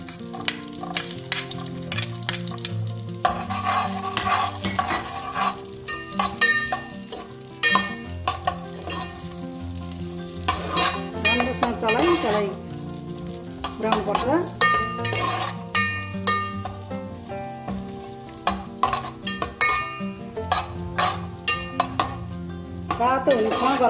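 Cashews sizzle and crackle as they fry in a pan for a sabudana kheer, with a spoon stirring and scraping against the metal throughout, a busy, close, continuous sizzle without talk.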